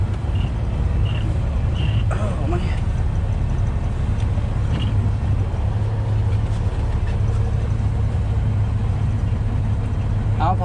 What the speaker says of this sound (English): This is just packed for so many trucks running out here.